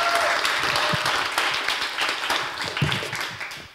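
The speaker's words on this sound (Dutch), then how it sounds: "Applaus." An audience applauds at a public conversation event on freedom with the mayor of Amsterdam. The clapping is dense and steady from a crowd indoors and fades slightly toward the end.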